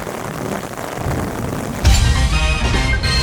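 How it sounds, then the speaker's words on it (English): Heavy rain pours down in a thunderstorm at Mont Saint-Michel, a dense hiss that swells suddenly louder partway through and keeps drumming steadily. "It's raining so much."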